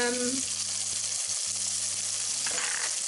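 Onions sautéing with a pinch of salt in a pan give a dense, steady sizzle throughout, with faint low tones in the background.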